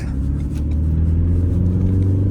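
Renault Megane 4 GT Line diesel with automatic gearbox accelerating on the road, a steady loud low engine drone with rising tones heard from inside the car, no talk.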